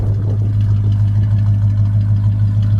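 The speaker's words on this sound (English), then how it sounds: "dual exhaust in the engine sounds really nice." A 1974 Dodge Charger with dual exhaust idles steadily, a deep, even low rumble close by with no talk.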